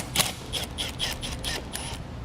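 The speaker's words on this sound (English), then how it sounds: "Now we're going to remove this nut." Ratchet wrench loosening a 12mm nut during trailer wiring harness installation on a 2018 Toyota, heard as a faint, rapid series of about seven close clicking strokes over low background noise.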